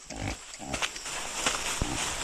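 A few low, rough grunts from a pregnant pig, short and close, amid background noise and scuffling.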